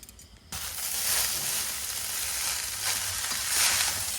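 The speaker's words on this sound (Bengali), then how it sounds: "ভেজে রাখি সবজি। কাঁচা লঙ্কা কুচি," Vegetables and chopped green chilli hit a hot pan and fry with a loud, close sizzle that starts abruptly after a quiet moment and keeps crackling steadily, with stirring scrapes.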